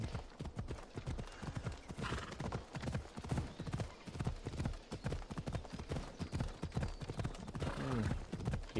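Rhythmic horse hooves in the video game Assassin's Creed Odyssey clip-clop steadily at a trot, close and clear, with a brief whinny and a voice talking over them.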